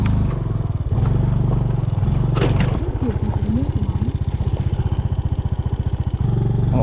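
Yamaha PG-1 motorcycle climbing a Pangasinan mountain trail with a passenger aboard, its engine chugging steadily and loudly up close, with clattering and scraping over rough ground and brief voices in the background.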